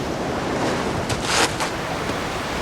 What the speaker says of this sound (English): The waves are coming in.